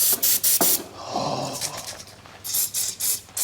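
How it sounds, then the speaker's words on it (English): Compressed air spraying down engine lines on a Volvo P1800 parked in a field for 25 years, loud sharp hissing blasts in short bursts with a softer spray in between, close by. "Compressed air."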